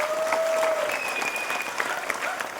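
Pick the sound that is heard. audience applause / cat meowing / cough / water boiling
audience applause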